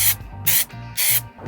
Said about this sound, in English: it's now time to spray the stone chip, which is the final step to this process